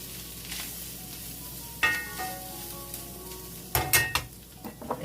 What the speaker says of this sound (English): we just kind of stir this a little bit. Let that kind of toast those spices.